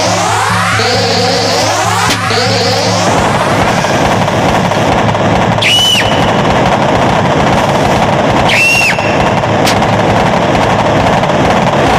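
Rapid bursts of gunfire from a prop gun in a village nautanki stage play, loud and close, with rattling volleys and sharp single cracks, and no talk.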